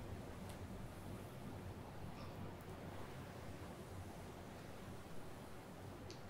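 Steady broadband wash of ocean waves just beside an outdoor pool in a tropical setting, a constant even roar with no distinct breaks, faint and distant-sounding, no voices.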